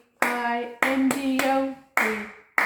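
Sharp hand claps land at a steady beat alongside a sung children's Bingo song, each clap cutting through the voice at close range.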